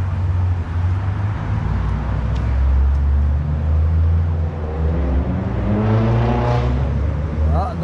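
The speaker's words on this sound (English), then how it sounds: "Noisy car, scaring a wee bit." A noisy car engine rumbles through Cookstown town centre in County Tyrone, loud and close, with the roar swelling as it passes near the end amid street traffic.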